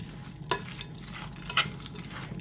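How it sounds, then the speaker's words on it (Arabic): A spoon stirring tomato paste, garlic and spices through hot oil in a pan, making a soft steady sizzle with two brief scraping clicks, close and fairly quiet. "هقلب بقى كل دول كده مع بعض"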